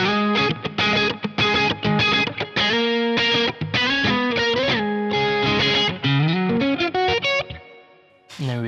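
Distorted electric guitar playing a melodic lead-line riff built on intervals, quick choppy notes in a busy rhythmic run with brief gaps, loud and alone.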